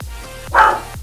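A pet dog barks indoors, one loud close bark standing out between softer low thumps, with no voices over it.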